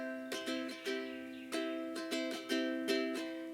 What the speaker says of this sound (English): This strumming pattern is called the calypso strumming pattern.